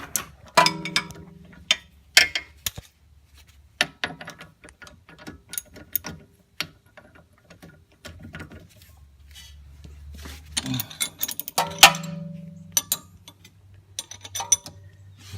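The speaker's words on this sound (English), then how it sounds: "securing nuts on the bottom of the strut using a 13/16 wrench and socket" Close, sharp clicking comes in irregular bursts with quiet pauses between them as a 13/16 wrench and socket work the lower strut nuts on a Mercedes CLS500 during a front air strut replacement.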